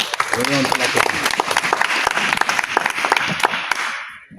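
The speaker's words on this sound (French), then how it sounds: "Est-ce qu'on peut acclamer?" An audience at a conference on climate change and poverty reduction breaks into dense, sustained applause for about four seconds, close and loud, with a brief voice near the start before the clapping fades out.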